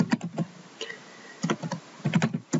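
Fingers tap at a computer keyboard in short bursts of quick clicks separated by brief pauses, close and fairly loud, with no speech.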